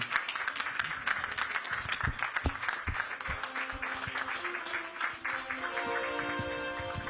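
Applause from an audience at a hotel awards ceremony, a steady mass of clapping with some sharper nearby claps, gradually giving way to a sustained tone and background hum toward the end.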